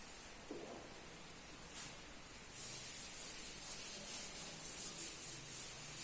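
A board is wiped to erase writing in a classroom lecture, giving a faint, steady rhythmic scrubbing rub that starts softly and becomes continuous, with no voice.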